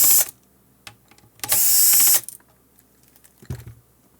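Screws are backed out of a ClearCom V-Series intercom panel, giving a few short ratcheting clicks and one louder sustained burst of tool noise, close and with no talking.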